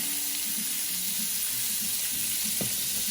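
A salmon fillet searing in butter in a pan, a loud steady close-up sizzle with faint spatters and one brief clink near the end, no talk.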